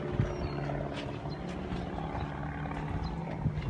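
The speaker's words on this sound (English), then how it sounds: "Low flying plane." A low-flying plane passes overhead on Anna Maria Island, Florida, its steady engine drone filling the background at moderate distance with no speech.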